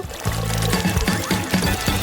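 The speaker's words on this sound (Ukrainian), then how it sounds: "Залишили зробити невеликий отвір в лимоні і видавити весь сік у склянку." Lemon juice squeezed from a small hole in a lemon and poured into a glass, a close, loud stream of glugging splashes lasting under two seconds.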